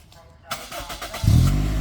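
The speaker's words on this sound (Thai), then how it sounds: "ไปฟังเสียงของเครื่องยนต์" A Toyota Corolla engine cranks and catches on the first try, then settles into a loud, steady, smooth idle up close, with a person talking over it.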